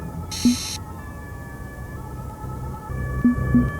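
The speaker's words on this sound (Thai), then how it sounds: "หนูได้ยินเสียงรถพยาบาลมาแล้วนะครับ" Electronic ambulance siren tones and short beeps sound over a low hum, with a brief bright burst near the start; moderately close, no talking.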